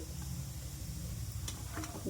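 Soft continuous sizzle of urad dal and seasoning seeds frying in oil with a low background hum and a couple of light clinks.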